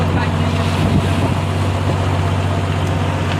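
A boat pushes across rough water, with a steady, loud engine drone mixed with wind buffeting and splashing close to the microphone throughout.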